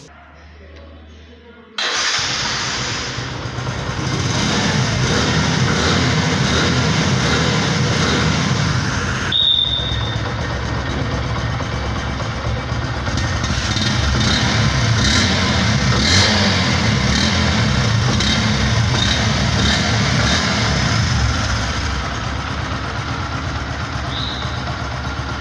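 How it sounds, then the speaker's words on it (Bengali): A 2024 Bajaj Discover 125cc motorcycle starting after a quiet moment, then its engine running loudly and close with repeated throttle revs rising and falling, showing a brief dip partway through before climbing again. "বাইকটির সাউন্ড কোয়ালিটিটা দেখাবো"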